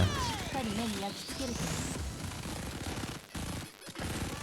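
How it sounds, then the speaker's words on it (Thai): Gunfire in the Blue Archive video game rattles in dense rapid bursts over layered game effects and music, with a speaking voice over the action. "เนรุยิงปิดตรงนี้"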